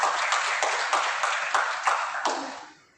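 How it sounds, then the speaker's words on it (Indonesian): Congregation applauding at an in-person church worship service in a hotel, a dense steady clatter of many hands with a few louder bursts, fading out toward the end. "Dia berikan tepuk tangan buat Tuhan itu."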